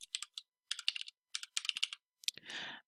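Keys clatter on a computer keyboard in quick bursts and short pauses, close and quiet, ending with a softer brushing rustle.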